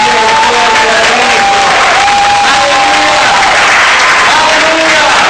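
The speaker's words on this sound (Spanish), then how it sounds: "¿Cuánto le dan un aplauso?" Church congregation applauding together, a dense sustained clapping wash with some crowd voices mixed in, fairly loud and steady throughout.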